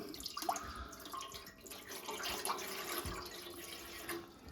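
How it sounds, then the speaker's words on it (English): Water splashes and gurgles continuously as it is poured from a large jug into a trim saw's water tray, a steady sloshing stream that stays fairly quiet throughout. "I just have a big water jug and I'll just dump water in"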